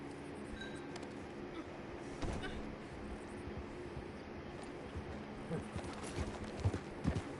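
Horse hooves clip-clop steadily in the video game Red Dead Online, a continuous, moderately quiet rhythmic patter under a dense game soundscape.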